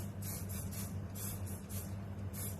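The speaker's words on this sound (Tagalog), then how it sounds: "if you have baking spray, then you have to spray" Baking spray misted into a muffin pan in short, evenly spaced hissing bursts, about seven quick sprays in a row, close and fairly soft over a low background hum.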